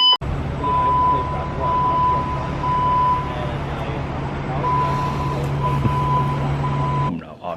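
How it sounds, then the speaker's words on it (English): A fire alarm going off indoors, a loud electronic beep repeating in an even rhythm for several seconds over a constant low hum. "Well, the fire alarm's gone off again."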